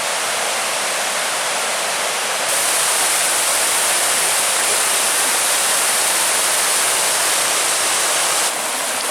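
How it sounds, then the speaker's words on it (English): A waterfall pours into a cliffside alcove grotto, a loud, steady broadband roar of falling water filling the whole stretch without a break, no voices. "Oh, here's another waterfall."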